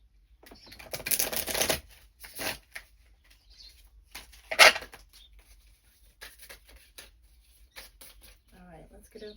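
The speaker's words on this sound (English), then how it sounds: "I'm gonna give this a quick shuffle" Cards riffle and shuffle in a few quick bursts, close and crisp, separated by softer handling taps and short pauses.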